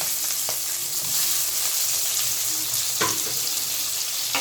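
Chopped onions fry in hot oil, a continuous close hiss and crackle with a few soft knocks and scrapes of a utensil scattered through.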